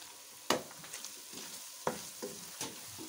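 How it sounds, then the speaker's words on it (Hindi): A spoon stirs a potato curry mixture in a pot, giving a few sharp scrapes and knocks at uneven intervals over a soft background sizzle, with no talking. "ये देखें मैं साथ साथ जो है वो इसको चला रही हूँ"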